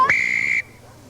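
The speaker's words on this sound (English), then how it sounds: "Blow your whistle and quieten them down a second." A teacher blows one sharp, loud, sustained whistle blast lasting about half a second to quiet a group of children, then it cuts off into near silence.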